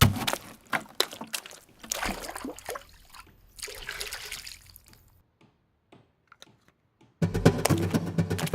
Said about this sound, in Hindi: जरा इसमें पानी डालना